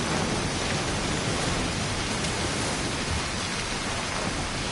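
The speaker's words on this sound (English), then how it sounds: "Is that rain?" Heavy rain falls steadily in a video game, a loud, dense, unbroken hiss with no other sounds.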